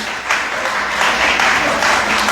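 A church congregation applauds during a worship service, a dense, loud wash of many hands clapping steadily and close for the whole stretch.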